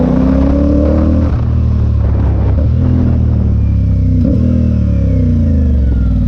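A CF Moto 450SS motorcycle revs up through a series of upshifts, its engine pitch climbing and dropping sharply at each gear change, loud and close with no voices.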